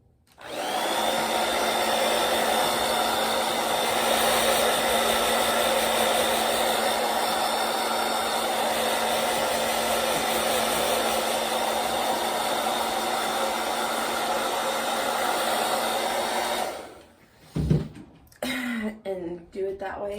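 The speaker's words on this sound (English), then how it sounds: "I take my blow dryer." A handheld blow dryer runs steadily and loud for about seventeen seconds, a constant whooshing roar with a high whine, then clicks off, followed by brief handling noises.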